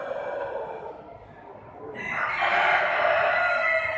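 Delaware chickens crow and cluck at a busy poultry show, one rooster's crow rising loudly over a steady background of other birds and hall noise.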